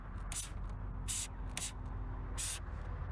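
Spray paint can hissing onto a plastic car headlight in short half-pump bursts, four or five quick sputtering sprays close up with brief gaps between.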